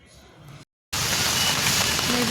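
Steady rain falls throughout at an outdoor evening snack stop, a dense broadband patter that cuts out briefly near the start before returning loud and continuous.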